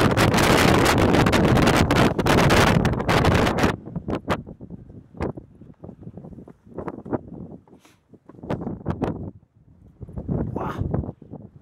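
A strong mistral wind buffets the microphone at El Castellet in the País Valencià, roaring steadily at first and then coming in loud, irregular gusts separated by brief lulls.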